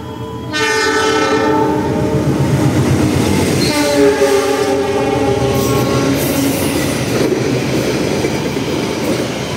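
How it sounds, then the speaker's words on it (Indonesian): An Airlangga economy passenger train departing, its horn sounding loudly in long harmonic blasts over rumbling wheels and rail clatter, close and continuous. "Pukul 12:31 kereta api Airlangga berangkat dari"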